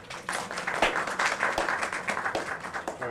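An audience welcoming a guest speaker at a temple event in Los Angeles breaks into scattered, moderately loud clapping with an uneven rhythm that continues throughout, with no voices heard.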